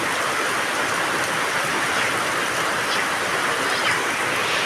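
Heavy rain pours in a dense, unbroken hiss, close and loud, with a steady broadband wash that never lets up across the whole stretch.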